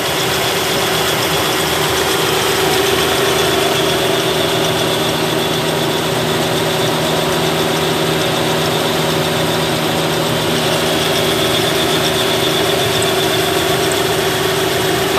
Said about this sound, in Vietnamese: Máy nổ rất là êm nha anh chị nha,